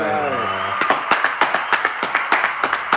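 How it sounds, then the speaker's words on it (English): Sharp, separate hand claps ring out in a steady rhythm after a voice fades, close and fairly loud, like a small audience or a single person clapping for Dylan on a live show. "Can we get a round of applause for Dylan?"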